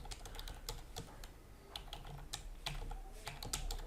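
Fingers tap out text on a PC computer keyboard, quiet close clicks in an irregular typing rhythm over a low background hum, with no voices.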